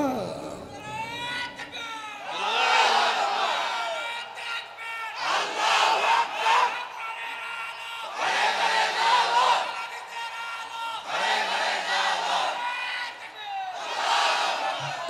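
A large crowd at a Bengali Islamic sermon shouts the takbir in repeated loud collective bursts, each swelling and fading in a steady call-and-response rhythm, with a single amplified voice leading between bursts.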